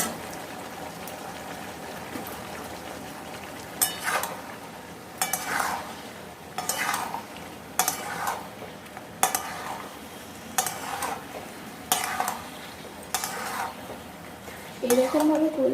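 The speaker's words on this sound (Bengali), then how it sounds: "এবার এর মধ্যে আমি পেঁয়াজ আর ক্যাপসিকামগুলো দিয়ে দেবো, এগুলোকেও একটু ভাজা ভাজা করে নেব" Chicken is stir-fried with onions and capsicum for chilli chicken, with a spatula scraping the pan in a steady rhythm, roughly one stroke every second or so, over a soft, continuous sizzle.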